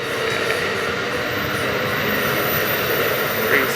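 A passenger train of three sleepers, a diner, a lounge and two coaches rolls past in Simi Valley, a loud, continuous broadband roar and rumble that holds steady throughout.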